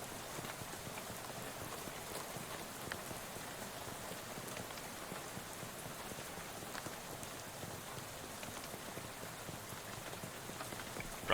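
Steady rain patters on surfaces in the video game Shadows Over Loathing, a soft, even hiss with scattered droplet ticks that holds unbroken and faint throughout, with no voices.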